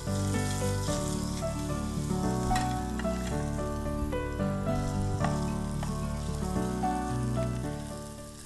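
Paneer sears in a hot pan with a continuous crackling sizzle like light rain, heard close and steady over soft background music.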